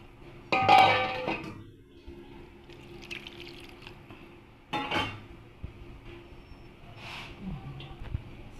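Water poured into cooking lentils for dal: short splashy pours and drips in two main bursts with quieter trickles between, close by in a quiet kitchen, with a few small clinks.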